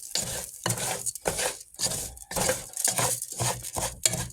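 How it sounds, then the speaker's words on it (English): Rice frying in beef fat in a pan, heard as a loud, close sizzle broken up by rhythmic stirring scrapes that come in roughly even strokes about every half second, with no voices. "I put a little bit of the fat in there just to fry it up just a little bit."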